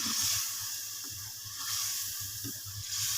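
Onions fry in a pan for white chicken karahi, giving a soft, steady sizzling hiss close by with faint stirring movements, and no talk.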